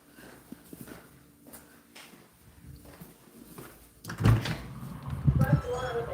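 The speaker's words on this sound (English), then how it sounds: "Front door open." The front door of a new-construction model home in Texas opens with a brief thump, followed by shuffling steps and louder rustling and knocks near the door, while a person talks throughout.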